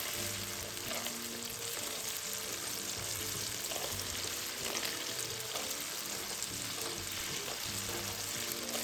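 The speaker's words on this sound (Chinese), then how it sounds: "一直油炸至豆干表面像视频中一样一点金黄色后，即可沥干油分捞起" Diced dried tofu frying in hot oil in a wok gives an even, continuous hiss and crackle that never lets up, moderately quiet and close, with no voices.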